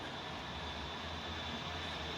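A plane taking off in the Infinite Flight game, a steady droning engine roar with a low hum beneath a broad hiss, constant and unbroken throughout.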